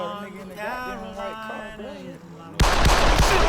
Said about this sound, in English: It's like this calm, wholesome music that just gets interrupted by the gunshots